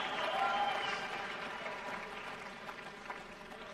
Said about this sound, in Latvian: Skatītājs sāk aplaudēt.